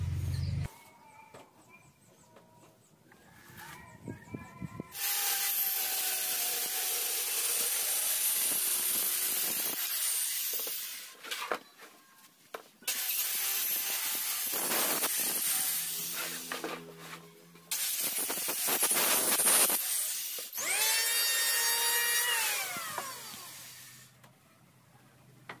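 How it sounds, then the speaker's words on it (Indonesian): Hand planing of sawn wood panels for a minimalist dressing table, smoothing off saw marks in long, loud hissing shaves repeated stroke after stroke, with brief pauses between passes. "kemudian ini saya serut bekas gergajiannya supaya halus"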